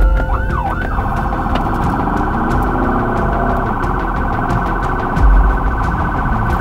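Emergency vehicle siren sounding while driving through the streets of Budapest, a loud continuous wailing tone that holds steady and close throughout, with engine and road rumble underneath and no talking.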